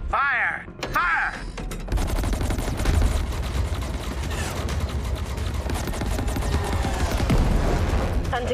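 Rapid gunfire from space fighters in the game Chorus, a dense sustained barrage of shots and mechanical clatter over a loud battle mix, starting after a brief opening of softer tones.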